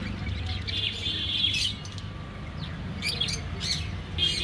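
Java sparrows in a pet shop chirp in short, bright bursts over a steady low hum of background noise, with scattered calls that come fairly close.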